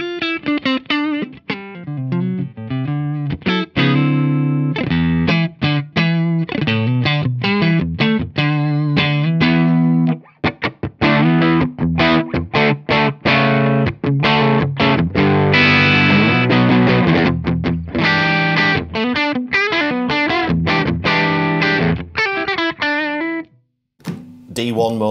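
Electric guitar played through an amp with a Laney effects pedal switched on, distorted chords and riffs ringing loud and close with some chorus shimmer and brief pauses between phrases.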